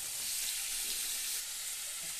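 Cut crab pieces sizzle loudly and steadily in a pan of hot masala curry, a constant dense frying hiss heard up close with no talk.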